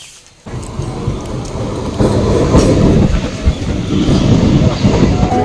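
A train pulls into a station, rolling in loud and close with a steady heavy rumble and clickety-clack of wheels that swells midway, with no voices over it.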